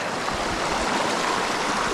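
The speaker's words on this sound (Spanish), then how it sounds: "Es un río" A small clear-water creek holding wild fish flows steadily nearby, a continuous broadband rush and trickle without pauses and with no voices.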